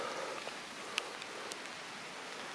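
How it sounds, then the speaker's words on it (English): Light rain falls on a narrow hilly road on a misty summer morning, a soft, steady hiss with a few faint, distinct drops close by. "Still raining, but very light rain."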